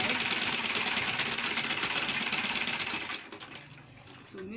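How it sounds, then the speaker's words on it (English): A sewing machine stitches a fabric pouch purse with a fast, steady buzzing run that cuts off after about three seconds, leaving a quieter tail. "So let me sew it again"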